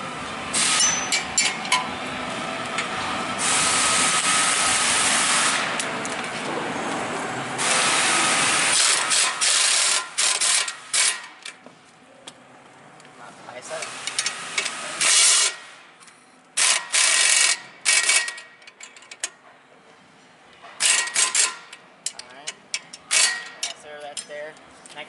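Impact wrench fastening the front strut of a Nissan Versa, loud bursts of rattling, hammering mechanical noise in long and short runs, with quieter gaps and someone talking intermittently in between.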